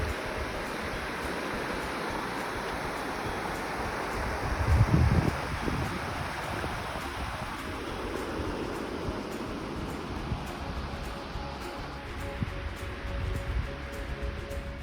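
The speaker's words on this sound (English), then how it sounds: "This is definitely a river." A river runs steadily beside a campsite in the Kootenays, a constant broadband rush of flowing water that stays even and moderately loud, with a brief louder splash or gust near the middle and no voices.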